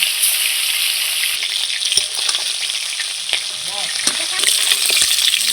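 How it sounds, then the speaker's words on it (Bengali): Large snakehead fish pieces fry red in hot oil in a pan with a constant close crackling sizzle, punctuated by a few sharp knocks and spatula scrapes as they are turned. "বাকি মাছগুলো আমি ঠিক এইভাবে ভেজে নেব।"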